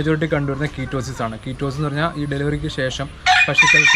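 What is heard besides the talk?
chickens clucking and rooster crowing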